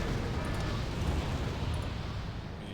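Heavy incoming artillery fire and explosions in the strategy game Wargame Red Dragon during a Second Korean War battle, forming a loud, continuous low rumble of overlapping blasts with no clear gaps.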